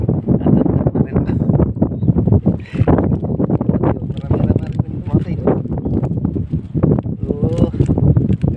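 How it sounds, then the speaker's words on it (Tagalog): Wind buffets the microphone in a constant rumbling roar while people talk over it. "Mahangin na."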